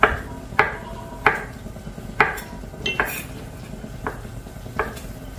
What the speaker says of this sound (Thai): เห็ดแชมปิญองนะคะ จะต้องเอามาสไลด์